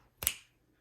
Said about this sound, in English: let me go snap my fingers